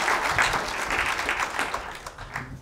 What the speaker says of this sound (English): So please give a round of applause, Lucas at Rowboat Creative.